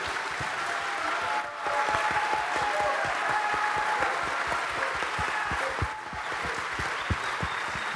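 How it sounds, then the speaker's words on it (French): A sustained wave of applause from the audience at the Téléthon 2024 launch for five people who shared their testimonies, steady and full for the whole stretch with a brief dip near the middle and faint tonal sounds beneath. "on peut encore les applaudir bien fort tous les 5."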